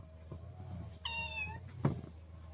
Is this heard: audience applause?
no